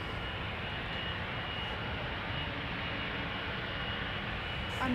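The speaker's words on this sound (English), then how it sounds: "KLM Flight 655, 777-200 lined up already." A KLM Boeing 777-200 jet at Amsterdam Schiphol gives a steady, broad engine roar that holds loud and even for the whole stretch, with no voices over it.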